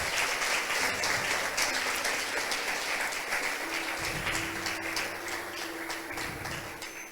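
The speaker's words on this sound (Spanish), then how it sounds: "Denle un aplauso a Roberto" Sunday church congregation applauds Roberto with steady, continuous clapping that tapers slightly over several seconds, with almost no talking.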